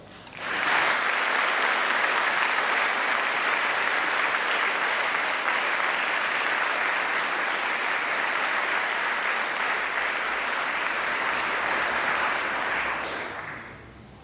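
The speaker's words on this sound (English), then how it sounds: "give your guests a rousing round of applause" A graduation ceremony audience breaks into steady, sustained applause that holds at an even level for about twelve seconds, then tapers off, with no talking over it.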